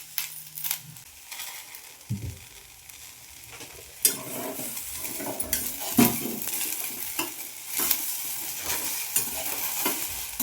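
Okra (ladies finger) stir-fried in a pan, a soft sizzle under repeated scraping and clinking of a spatula against the pan, with irregular louder strokes throughout.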